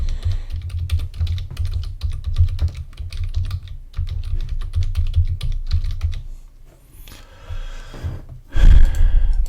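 A computer keyboard is typed on in quick bursts of close, crisp key clicks entering a web address, with brief pauses and a louder breath or rustle near the end.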